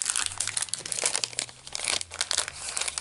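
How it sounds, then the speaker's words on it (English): Plastic packaging around card-kit pieces crinkles and rustles continuously up close, with dense, irregular crackling bursts and no voices. "I did not take all the pieces out of the plastic, so you'll hear some crinkling"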